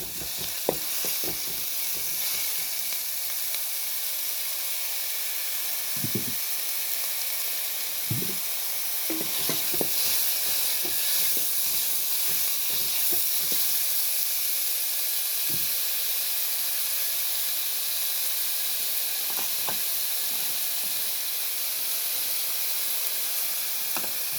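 Ginger, green chilies, garlic and small onions sizzle steadily in hot oil in a pan, a continuous close frying crackle with occasional sharper pops and stirring knocks, no voices.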